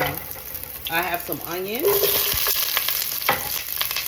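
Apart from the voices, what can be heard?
chicken frying in a pot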